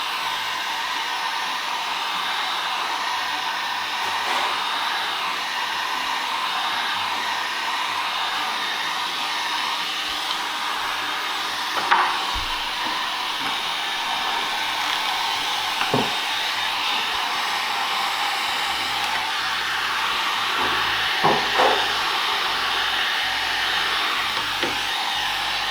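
A heat gun blows a steady stream of hot air across a car dash panel during interior shaping, a continuous airy roar with a few faint knocks and clicks as the panel is handled.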